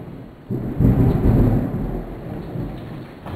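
Thunder rumbles low and heavy through a thunderstorm, swelling after half a second and rolling on, over a steady hiss of rain.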